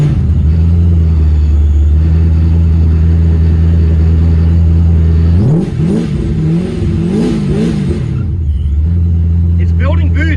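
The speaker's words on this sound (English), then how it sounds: "It's building boost, it's spinning" A boosted small-block Chevy engine in an S10 pickup holds a loud steady idle-level drone, then revs up in rising and falling sweeps with turbo whine building before settling back to a steady roar.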